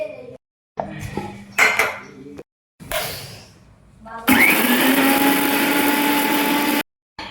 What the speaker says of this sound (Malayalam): ഒരു കുറച്ചൊരു നുള്ളി വെള്ളം ചേർത്തിട്ട് നമുക്ക് അടിച്ചെടുക്കാം